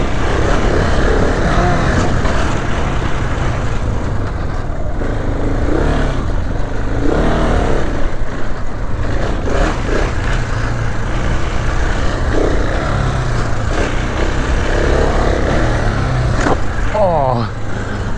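A motorbike's engine roars and revs continuously while being ridden and jumped, loud and close throughout, with wind buffeting and brief throttle swells.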